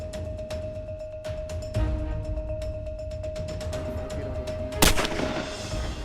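Guns are fired at crocodiles on a Caribbean island, with sharp reports cracking out in a rapid, uneven series over a constant background, one blast standing out louder near the end.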